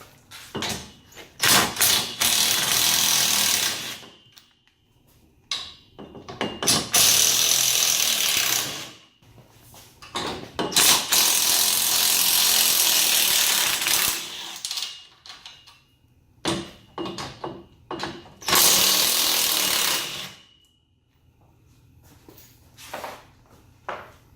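A ratchet works bolts loose on a roll cage back hoop in a garage. It comes in repeated loud bursts of rapid clicking and grinding, separated by short pauses, with no one talking.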